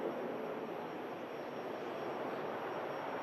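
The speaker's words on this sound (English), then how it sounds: "Lovely touchdown from the ATR there." An ATR turboprop touches down at Manchester Airport, its engines producing a steady, fairly faint whooshing drone that stays even from start to finish with no voices.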